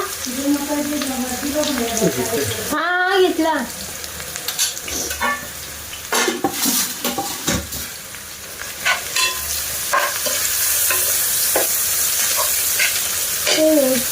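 Chicken stirred in a pan with turmeric, chili powder and spices, a steady sizzle with repeated scraping and clattering of a spoon, near and fairly loud, with a brief voice and other background sounds in between.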